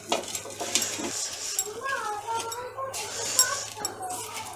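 Green chilies and peanuts scraped and crushed with a small clay pot, close gritty scraping and knocking strokes under a woman's speech.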